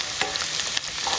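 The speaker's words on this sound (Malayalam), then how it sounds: "സവാള ഒന്ന് വരട്ടിയെടുക്കുക." Sliced onions sautéing in a little coconut oil in a pan for a Kerala pork curry: a continuous close hiss of frying with a few brief stirring scrapes and no voices.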